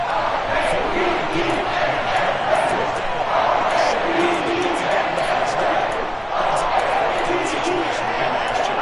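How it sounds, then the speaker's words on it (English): Big roaring football stadium crowd at a Patriots versus Ravens game, a dense, loud, sustained wall of cheering and shouting that holds steady as fans get louder on third down. "That just means this crowd's going to get even louder"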